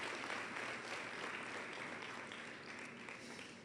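Faint, distant applause from a church congregation, an even wash of clapping that holds steady and slowly tapers, heard alone without speech.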